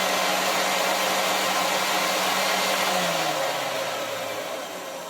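Motor of a Hoover Convertible U4147 vacuum cleaner runs with a steady, loud whirring hum, the pitch sagging slightly near the end as it begins to wind down.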